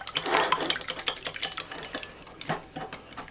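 A small whisk beating egg, fruit compote and almond extract in a bowl, giving a rapid, steady run of close, light clicking and tapping strokes with no talking.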